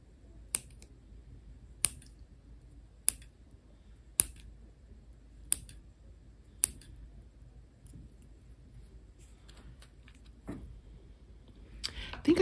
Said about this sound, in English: Okay, I'm going to use scissors again.